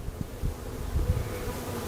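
Bees buzzing steadily during a beehive inspection, a close, continuous low drone from a hive full of brood and young adult bees, with no talking.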